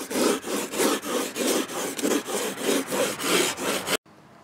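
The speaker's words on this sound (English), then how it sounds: "Just rasp, you know, and just work it all down" Wood being rasped and shaped by hand, with about a dozen rhythmic rough scraping strokes, near and fairly loud, stopping abruptly at the end.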